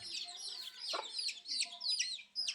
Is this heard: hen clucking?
yes